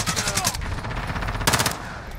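Uzi submachine gun fire in the Call of Duty Modern Warfare (2019) multiplayer video game, loud rapid close bursts rattling in quick succession with a second flurry near the end.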